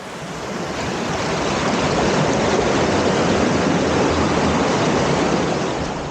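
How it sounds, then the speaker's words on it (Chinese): Rushing meltwater streams fed by melting glaciers in the high Arctic, a steady, loud broadband roar of flowing water with some wind noise that holds constant for several seconds without speech. "就有一条条湍急的小溪，都是来自消融的冰川"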